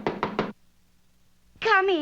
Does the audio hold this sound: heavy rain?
no